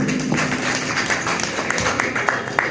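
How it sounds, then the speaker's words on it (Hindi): An audience at a ghazal memorial concert applauds in a moderate, uneven patter of clapping with scattered louder claps. "जगदीश सागर साहब के लिए एक बार फिर जोरदार तालियां बजाइए"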